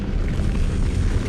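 Incendio fire spell cast in Hogwarts Legacy, a steady low roaring whoosh of flame, loud and close, with no break across its short length.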